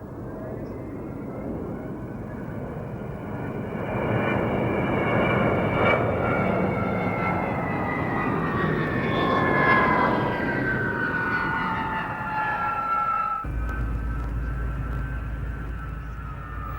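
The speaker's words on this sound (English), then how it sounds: "It can operate from the same runways as the C-141, though particularly short field operation like this can be expensive on tyres." A C-5B military transport aircraft making a short-field landing run at an air show, a loud sustained jet whine with descending engine tones that swells mid-clip, then shifts to a deep low rumble near the end.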